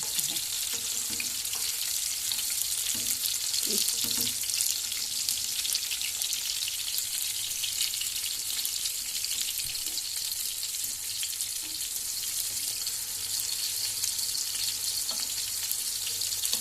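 Breakfast food with tomato frying in a pan, a loud continuous hiss of sizzling oil with a few faint stirring knocks early on, no clear talking.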